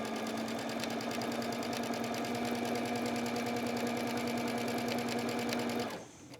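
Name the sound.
sewing machine stitching quilt seam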